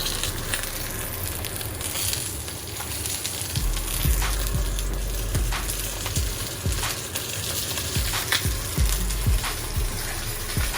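Chicken thighs sizzle in a hot pan on a stove top, with a loud, continuous crackling fry and scattered sharp pops and spits throughout.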